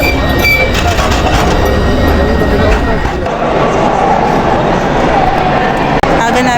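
A train ride in Italy brings a loud continuous rumble of rolling carriages with rail clatter throughout, and voices talk over it.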